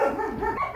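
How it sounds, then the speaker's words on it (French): Dogs bark in a quick, close, fairly loud flurry of overlapping barks and yips. "attendez, je vous retrouve quand ils arrêtent d'aboyer"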